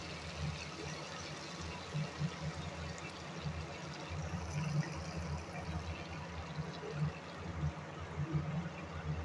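Liquid poured steadily into a cooking pot in a home kitchen, a soft continuous trickle and splash lasting throughout, moderately close and fairly quiet.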